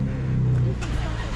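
A Dodge SRT Hellcat engine rumbles low and loud in the night, a brief deep growl with a slight rise, with voices talking over it.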